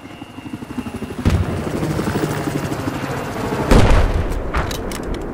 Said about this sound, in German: Da ist ein feindlicher Helikopter,